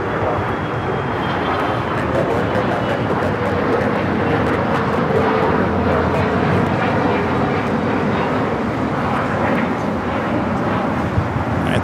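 Airplane taking off from runway 25 right at LAX, a loud continuous jet roar heard from a distance with steady broadband rumble and wind noise.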